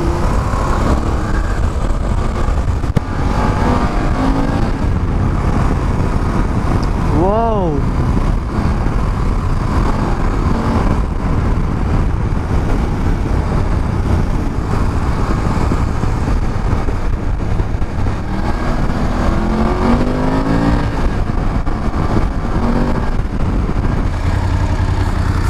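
Steady KTM 390 Adventure motorcycle engine rumble running throughout, close and loud, with a brief rising whine partway through and faint voices underneath.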